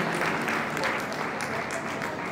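A crowd claps at a religious ceremony, a Jain muni's kalash installation gathering, the applause sustained and moderately distant, thinning slightly toward the end.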